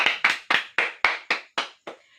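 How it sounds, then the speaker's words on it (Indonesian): A classroom audience claps for a group after their presentation: about eight sharp, evenly spaced claps that ring out clearly and trail off into a quiet room, with no talking. "kita beri tepuk tangan untuk kelompok 2 yang telah mempresentasikan hasil diskusinya ke depan kelas"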